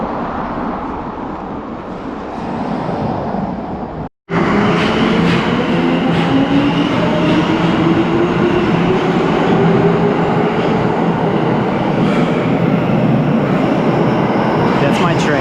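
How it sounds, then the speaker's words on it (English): Train pulling into a Tokyo station, a loud rumbling roar with a rising whine that starts after a short gap and runs steadily for about ten seconds, close by. "That's my train."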